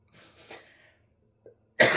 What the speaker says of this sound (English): I've got this cough.